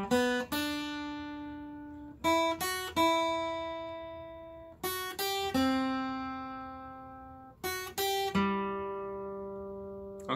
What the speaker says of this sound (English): Today we are ready to learn the riff for Don't Stop Believing.